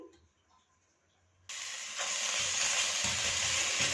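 Garlic ginger paste drops into hot cooking oil in a pan, a loud, steady broadband sizzle bursting in after a quiet start and continuing close up to the end.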